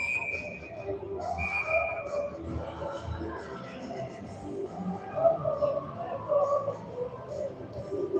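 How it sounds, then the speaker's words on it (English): A couple of short, shrill referee whistle blasts at a youth ice hockey game near the start, over a noisy, echoing background of crowd and distant voices. "Ref blows his whistle, maybe sending a player back."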